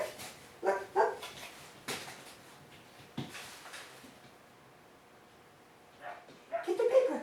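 A young female puppy barks during a game of fetch: several short, close barks come in scattered bursts, with a softer yip or whimper near the end and quiet pauses between.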